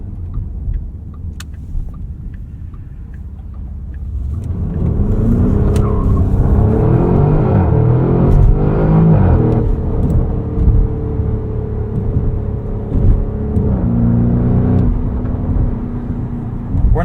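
A 2024 Porsche Cayenne Turbo E-Hybrid Coupe V8 idles low, then its loud, boisterous exhaust swells into a sustained throaty roar as the car accelerates while driving, with rising and falling revs continuing to the end.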